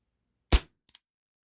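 An Umarex Walther P38 4.5mm CO2 pistol fires a single sharp, close shot, followed by two quick faint clicks as the blowback slide cycles.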